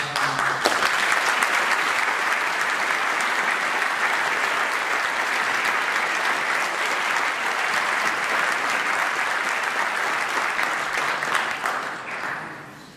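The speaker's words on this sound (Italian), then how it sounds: "anche io vi ringrazio per questi applausi" Sustained audience applause at an evening concert-reading, dense and steady clapping from a large crowd for about twelve seconds before tapering off at the end.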